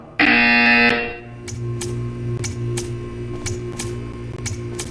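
Portal 2 video game buzzer: a loud, harsh electronic buzz lasting about a second, followed by a steady low hum with evenly spaced sharp ticking clicks.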